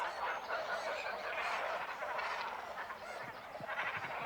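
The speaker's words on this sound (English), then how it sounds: "There is a cormorant colony on an island in the nearby forest lake." Dense, continuous clamour of a breeding cormorant colony on an island in a forest lake, roughly 1,500 birds calling at once, a steady honking, goose-like chorus that fills the whole stretch without pause.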